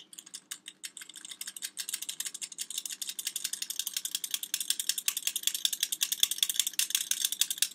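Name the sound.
flour being shaken through a sifter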